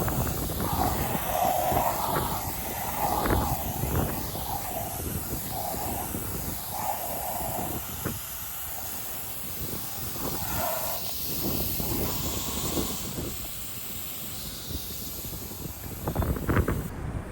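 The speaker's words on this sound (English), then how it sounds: "we're gonna let our automatic washer take off all the dirt that way" An automatic washer sprays an electrical cabinet during a maintenance job, giving a continuous, close, hissing jet of water with slight rises and dips in force throughout.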